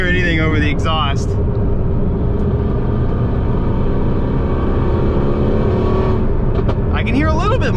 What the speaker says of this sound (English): it's hard to hear anything over the exhaust.